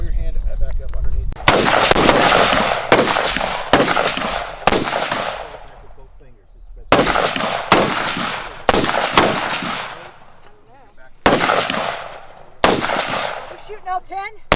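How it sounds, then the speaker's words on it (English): AR rifle fired at a shooting range at 100-yard targets from kneeling and barricade positions: about a dozen loud, sharp cracks in irregular groups, each with a short ringing decay, with gaps of quiet between strings. "I just shot an AR at 100 yards, kneeling and on the barrel and behind a barricade"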